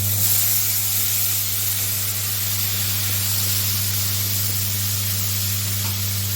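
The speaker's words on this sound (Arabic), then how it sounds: "الطماطم تتشوح مع الثوم ومع الفلفل" Tomatoes frying in a pan with garlic and peppers give a steady, even sizzle and hiss, continuous and fairly close, with a low hum underneath and no talking.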